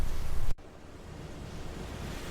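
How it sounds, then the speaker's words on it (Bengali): Heavy rain suddenly bursts on as a dense, roaring wash of noise, cutting in abruptly after a brief gap and holding steady and loud, with no voices. "মুহূর্তের মধ্যেই শুরু হলো প্রচণ্ড বৃষ্টি"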